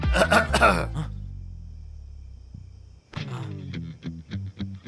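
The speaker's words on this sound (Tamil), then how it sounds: "ஏன்டா இருமுற?" In a scene from the film Tholvi F.C., a person gives a short, throaty cough burst at the start. A low hum follows, then voices talking.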